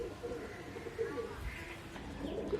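Karna pura pigeons coo in soft, rolling calls, several overlapping phrases close by against a quiet outdoor background.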